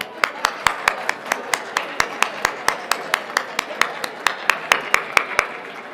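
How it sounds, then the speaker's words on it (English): A banquet audience at a Hilton Chicago award breakfast claps for the hotel staff, a brisk, steady run of sharp, evenly spaced claps, fairly close and loud, with no voices over it. "let's please give them a round of applause right now"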